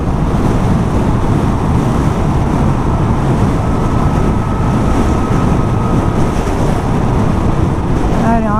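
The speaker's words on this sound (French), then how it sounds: "on n'a pas de protection à l'avant donc forcément on se prend bien le vent en pleine tronche" Heavy, constant wind roar buffets the microphone on an unfaired Zero SR/F electric motorcycle at 110 km/h, a loud rushing blast that never lets up, with engine hum buried underneath.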